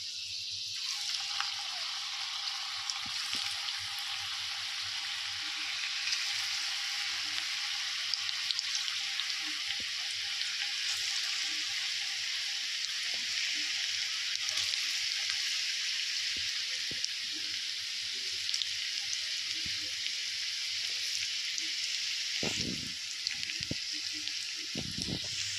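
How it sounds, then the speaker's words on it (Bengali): Onion pakoras deep-fry in hot oil, giving a loud, continuous, close hissing sizzle that holds steady the whole time, with a few brief utensil knocks near the end. "এবার আমরা ভাজা স্টার্ট করছি।"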